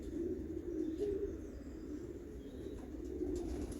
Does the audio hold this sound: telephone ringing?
no